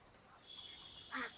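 A Chinese duck on a duck farm gives a single short quack near the end, faint and distant, over quiet background hiss.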